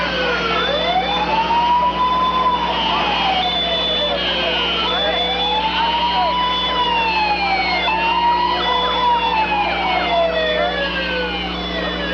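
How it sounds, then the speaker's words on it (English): Several ambulance and fire truck sirens wail together at a destroyed compound, rising and falling in overlapping cycles, loud and continuous, under a steady noisy background and a voice speaking. "Dozens of ambulances and fire trucks raced to the scene"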